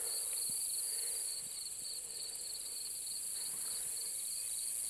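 Continuous high-pitched buzzing of katydids and grasshoppers fills the air on a farm, a steady outdoor chorus with faint background noise and no talking.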